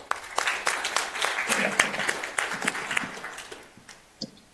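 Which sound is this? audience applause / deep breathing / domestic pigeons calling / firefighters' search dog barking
audience applause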